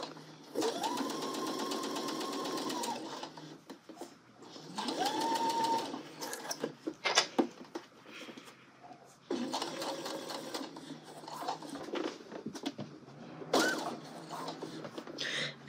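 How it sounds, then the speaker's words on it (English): A sewing machine stitches a sleeve seam on a garment in bursts of steady, fast mechanical whirring. Several runs are broken by short pauses and clicks, close and clear. "we're going to take this seam edge of the sleeve and sew 5/8 of an inch"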